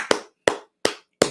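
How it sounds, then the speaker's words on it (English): Four separate hand claps, evenly spaced and close, each a sharp slap with a short decay, given for a man named Aaron; no talk over them. "Give Aaron some claps"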